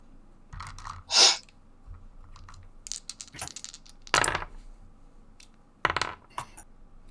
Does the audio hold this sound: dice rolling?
yes